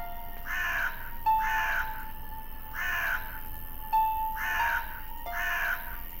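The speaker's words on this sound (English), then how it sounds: "I have to say hello to all the crows." Crows caw in the video game The Nanny, five clear harsh calls spaced about a second apart, fairly close and loud over a faint steady background tone, with no voices.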